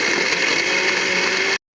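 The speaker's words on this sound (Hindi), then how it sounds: "शक्कर और इलायची डालकर एक चक्कर और देंगे ग्राइंडर को" A kitchen grinder whirs at full speed blending a date shake with sugar and cardamom, a loud, steady close-up motor roar that runs unbroken, then cuts off abruptly.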